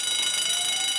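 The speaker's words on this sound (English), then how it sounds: "The fire alarm sounds like this." A construction site fire alarm rings continuously and loudly, a steady, bright bell-like tone that holds without a break, with no voices.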